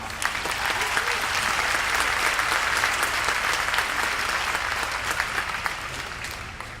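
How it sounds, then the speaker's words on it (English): Graduation audience at a high school commencement applauding the choir and orchestra, a long, steady wash of many hands clapping that tapers slightly at the end. "Please give them another round of applause."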